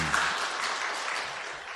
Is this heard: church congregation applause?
yes